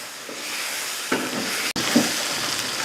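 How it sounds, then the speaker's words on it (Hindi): Spices and dry ginger powder roasting in a pan for chicken nihari give a steady close hiss and sizzle, broken by a sharp scrape partway through. "इसके साथ 2 से 3 मिनट अच्छे तरीके से भुनाई करेंगे।"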